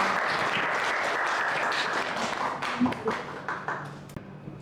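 A class applauds after students present their product work, with dense clapping at first that thins into scattered individual claps and fades out, a voice briefly audible toward the end.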